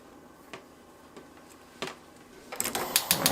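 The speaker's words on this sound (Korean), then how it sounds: "호박이 으스러질 정도로 푹 익으면 불을 끄고 핸드블렌더로 갈아줍니다." A hand blender purees soft-cooked pumpkin in a pot for pumpkin porridge. After a few sparse clicks, the motor kicks in with a loud, rough whirring in short bursts over the last second.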